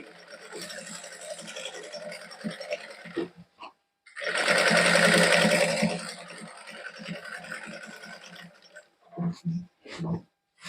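An electric sewing machine stitches a wedding party-wear suit with zari lace, running in short bursts and then one steady loud stretch of fast whirring, with someone talking before and after.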